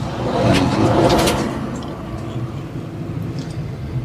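A bus rolls past a car pulled over on a residential street in Kingston, Jamaica, its engine swelling loud and near, then fading into a lower rumble.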